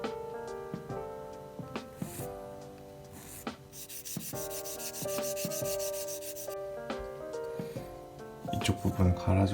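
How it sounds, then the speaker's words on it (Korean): Sandpaper rubs back and forth against a small hard plastic Gundam model part in quick scratchy strokes, close up, with light music underneath and clicks of handling. "이 아이 같은 경우는 사포로 해가지고 날카롭게 만들 생각입니다."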